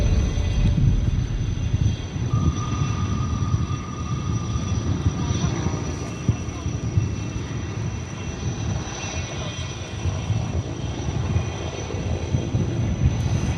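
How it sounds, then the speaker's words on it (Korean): A large S-64 firefighting helicopter approaching at a forest-fire training exercise, its steady rumbling rotor and engine drone filling the air continuously at fairly high level. "대형 헬기 S-64가 산불이 분화된 지점을 겨냥해 물대포를 발사하기 위해 진입하고 있습니다"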